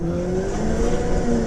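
A 2004 Subaru rally car drives a forest stage in Great Britain in Richard Burns Rally, its engine droning steadily and loud with a faint tire squeal, no voices.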